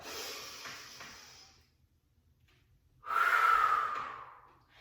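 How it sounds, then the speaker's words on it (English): Deep breathing during a Pilates spine exercise: one long, airy exhale fading out, a short near-silent pause, then a strong, close inhale or breath with a hissing rush that tapers off. "Nice big breaths in and out"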